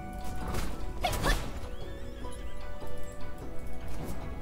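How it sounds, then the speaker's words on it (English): In the video game Justice Online, a horse whinnies loudly and close, with clip-clopping hooves and scuffling movement under a faint game background. "Am I supposed to be attacking this poor horse?"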